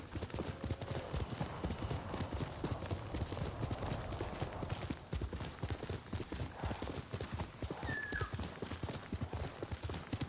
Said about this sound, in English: I forgot I can't have the horse jump.